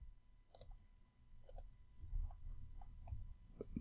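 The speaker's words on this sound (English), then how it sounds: "Let's click on this." Computer mouse clicks while working in animation software: two sharp clicks and a few fainter ticks, close and fairly quiet over a low room rumble.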